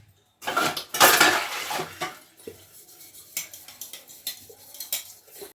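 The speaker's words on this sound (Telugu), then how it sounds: "బౌల్ అన్నీ అయితే తోమేసానండి." Bowls and dishes are washed and scrubbed by hand, with clattering knocks and clinks of metal and crockery, loud bursts at first, then scattered lighter taps and scrapes nearby.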